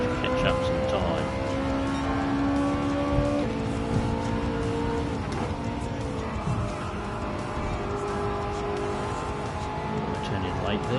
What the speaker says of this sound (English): I just want to really rev it out to catch up some time.